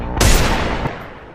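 A Desert Eagle pistol fires once in a video game, a single loud, sharp close-range shot that booms and then decays over about a second.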